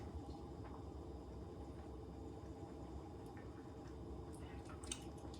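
Muskoka Brewery beer is sipped through a straw, giving soft wet slurps and gurgles over a low rumbling background, close and quiet, with no voices.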